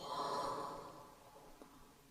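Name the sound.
breathing out during yoga exercise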